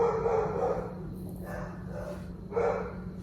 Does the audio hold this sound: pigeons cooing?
no